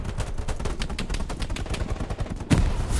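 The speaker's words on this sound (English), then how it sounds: "They're shooting from the northeast." Dense rapid gunfire from the World War II shooter Hell Let Loose, a fast rattling string of close shots, ending in a heavier louder burst.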